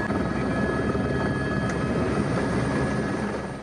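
A rescue helicopter flying over flood-hit villages in Pakistan, a loud, steady rotor roar that holds constant throughout and fades slightly toward the end.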